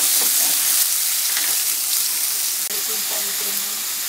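Vegetables with tomato sautéing in a home pan, a steady broad sizzle with faint stirring clatter, close and moderately loud throughout.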